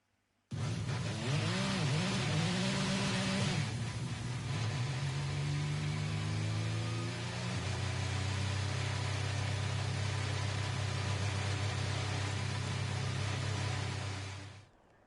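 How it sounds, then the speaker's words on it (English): An Audi R18 2016 diesel racing engine in Gran Turismo Sport drones loudly and steadily, its pitch sweeping up and down in early revs before settling into a sustained high-energy hum. "you'll hear the sound of an Audi R18 2016's diesel engine with its battery rev very shortly"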